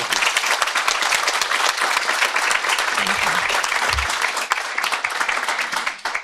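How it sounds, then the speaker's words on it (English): An audience at a marketing meetup gives a presenter a round of applause, loud continuous clapping throughout with faint crowd murmur underneath, thinning slightly toward the end. "So let's give Connie a big round of applause."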